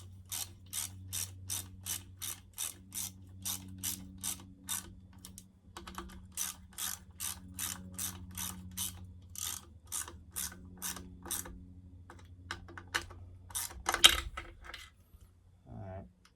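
A ratchet wrench tightens fasteners on a McCulloch Super Pro 81 chainsaw during reassembly, a fast run of sharp evenly spaced clicks in repeated bursts, close and crisp, with brief pauses between strokes.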